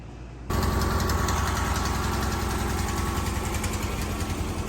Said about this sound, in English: It's got a really bad exhaust leak.